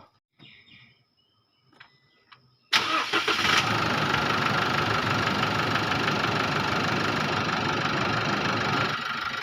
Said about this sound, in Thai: เดี๋ยวผมก็จะไปสตาร์ทรถนะครับ